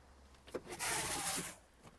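On a Skoda Octavia Tour estate, the boot's fabric cargo cover blind is pulled out in one soft, quiet sliding rub lasting under a second, framed by faint handling clicks.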